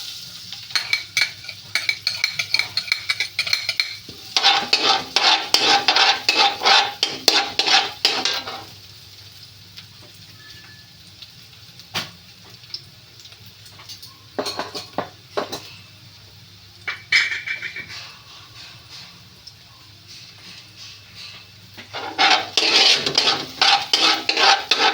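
Garlic fries in a pan with bursts of sizzling and stirring scrapes, broken by quieter gaps and a loud stirring stretch near the end; no talking.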